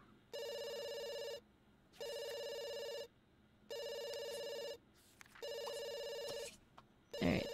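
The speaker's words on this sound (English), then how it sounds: "Alright, answer the phone," A telephone rings in The Sims 2, four loud electronic ring bursts repeating at steady intervals with short gaps between them, heard clearly on its own.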